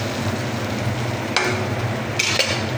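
Sautéing (gisa) for a pulutan dish in a pan: steady close sizzling with a couple of brief scraping stirs, no talk.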